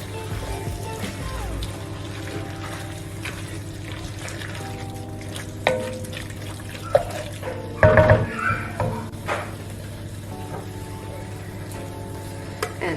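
Chilli con carne mixture without beans is stirred in a pan over steady background hum, with a soft sizzle and a short cluster of spoon-against-pan clinks and scrapes partway through.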